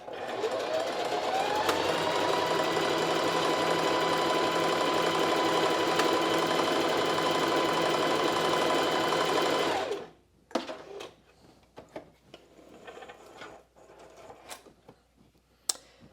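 A sewing machine runs fast and steady for about ten seconds while stitching a buttonhole on a pants piece. Then it stops and is followed by scattered clicks and handling noises.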